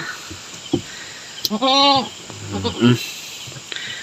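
A mother goat and her newborn triplet kids bleat, with one clear, wavering bleat in the middle among softer animal sounds and bits of nearby human talk.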